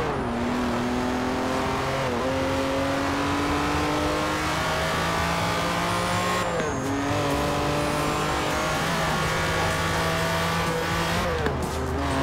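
A Lamborghini Countach engine in Forza Horizon 4 revs hard and climbs through repeated gear shifts, loud and continuous with brief dips between gears, and no talk over it.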